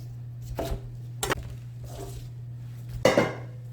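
Knife chopping red bell pepper into 2.5 cm squares on a cutting board, a few sharp separate chops spaced apart, close and fairly loud over a steady low hum.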